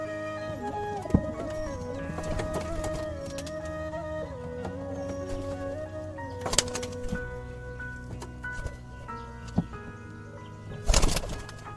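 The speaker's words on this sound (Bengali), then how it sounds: "তো এবার সব পায়রা ছেড়ে দেবো।" Pigeons of a tumbler breed cooing close by, low repeated throaty calls over a steady background hum, with a few sharp knocks and rustles.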